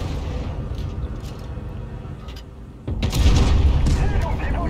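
Tank cannon fire in World of Tanks Blitz during a WZ-114 battle: a heavy booming shot near the three-second mark after quieter rumbling engine and battle noise, with a voice talking over parts of it.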